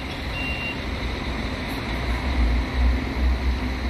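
A bus maneuvers at the Ribeirão Preto bus terminal in São Paulo state with a steady reversing beep. A heavy diesel engine rumbles continuously underneath, swelling louder toward the end.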